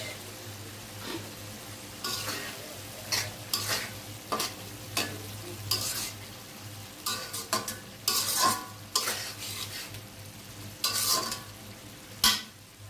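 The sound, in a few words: rohu fish curry with tomato being sautéed in pan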